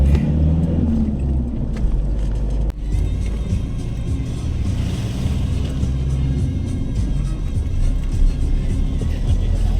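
Car driving up a road toward a golf course in Loei, Thailand, heard from inside as a steady, loud engine rumble with road noise and a single bump near the start, with no talk.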